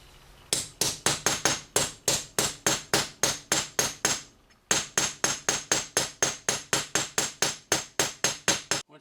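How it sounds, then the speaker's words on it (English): Steel hammer blows drive a wheel bearing race into the hub of a 1966 Ford Mustang, a steady run of sharp, ringing metallic strikes close up, pausing briefly midway before another quick, even series. "You can tell when it hits bottom, it gets a little ring to it."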